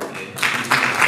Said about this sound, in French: Applaudissons aussi pour lui.